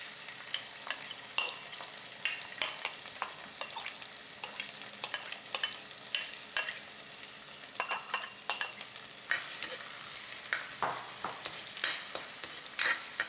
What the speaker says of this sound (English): I'm going to add some oil to my pan here. Add some olive oil. I'm going to add in some onion.